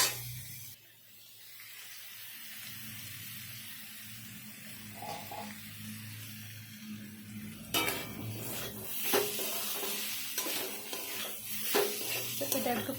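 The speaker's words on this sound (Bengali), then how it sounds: "খুব ভালোভাবে মশলার সাথে আলু আর মাশরুমটা কষিয়ে নিয়েছি" Potatoes and mushrooms being sautéed with spices in a pan, a low sizzle joined by scraping and clattering of a spatula against the pan, growing busier in the second half with sharp metallic knocks.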